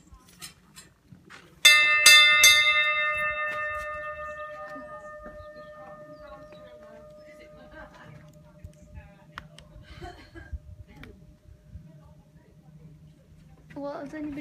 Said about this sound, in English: we have to ring the bell